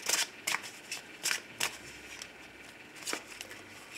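Tarot or oracle cards shuffled for a love reading, a soft papery riffle in several short bursts with pauses between, close and fairly quiet with no talking.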